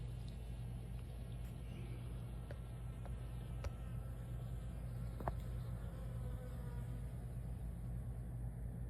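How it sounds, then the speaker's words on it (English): Bees buzzing steadily outdoors in a hot fall garden with Chinese cabbage and peppers, a continuous insect drone over a low rumble with a few faint clicks, no talking. "What are those bees doing?"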